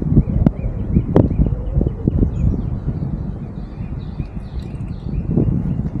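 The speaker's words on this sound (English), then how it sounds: "Dang, this wind is crazy." Strong wind gusting across a lake during spring fishing from a boat held by a trolling motor, a steady low roar buffeting the microphone with rustling and brief thumps, no talk.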